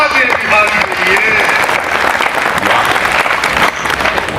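Applause from an audience at a Hindi kavi sammelan (poetry gathering), a dense, steady clapping that fills the whole stretch, loud and close, with crowd noise mixed in.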